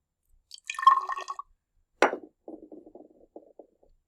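Water poured from a small measure into radish seed pots of soil, a short splash followed by a few soft drips and trickles, close and quiet with no talk.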